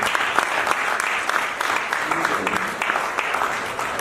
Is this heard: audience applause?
yes